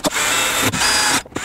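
A power drill bores through the plastic of a C8 Corvette Stingray rocker panel, giving a close, loud whir in two short bursts separated by a brief pause.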